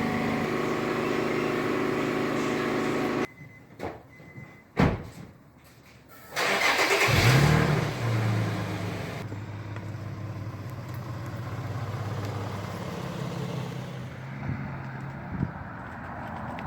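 An Infiniti G35 starts up and pulls away on a road test after a wheel bearing repair, its engine cranking and catching with a short burst, then a steady mid-pitched hum of driving with road noise, no voices.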